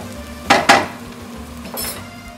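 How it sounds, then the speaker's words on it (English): A utensil knocks twice against a sauté pan of onion, garlic and sliced green chilies, then a soft stir scrapes while a faint sizzle continues underneath. "I'm going to let this cook for a little bit till the onion turns golden brown."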